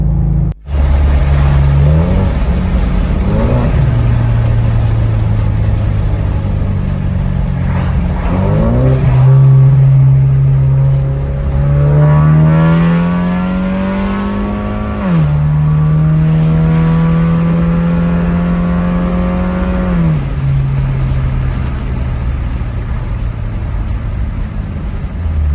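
A Ford Mustang EcoBoost with a large intercooler accelerating hard from about 40 to 80 mph through second and third gear, a loud close engine roar climbing in pitch, dropping at the gear change, then climbing again.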